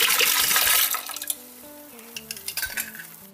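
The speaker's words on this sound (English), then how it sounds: "we're going to pour some cranberry pomegranate juice into the pot." Cranberry pomegranate juice pours into a cooking pot with a splashy liquid rush that tapers off after about a second, followed by light clinks and stirring clatter of kitchenware.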